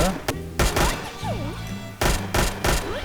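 A new gun in the Sudden Attack video game fires loud, close two-round bursts, several in quick succession, while a voice talks between the shots.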